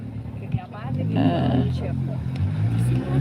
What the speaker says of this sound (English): we've got motorbikes behind us and cars that make huge noise